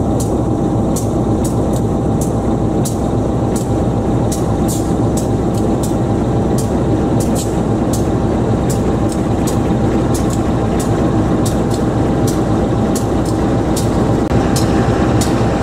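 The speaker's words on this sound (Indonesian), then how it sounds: "Kita tunggu semboyan ya untuk keberangkatan kereta lokal Garut Cibatuan" A local Garut–Cibatu passenger train departs a station in Bandung, giving a steady, loud low rumble of engine and rolling stock. Regular clicks from the rails recur through the whole stretch, and no voices are heard.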